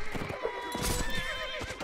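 A horse whinnies loudly in the video game Mount & Blade multiplayer with a shrill, wavering call, accompanied by hoofbeats clopping underneath.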